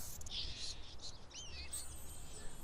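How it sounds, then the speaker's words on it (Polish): A flock of ravens in the Castlevania video game gives faint, thin calls and brief rising cries over a low background hum, fairly distant and sparse. "Wygląda, że stada kruków nie lubią dzielić się swoimi słupami."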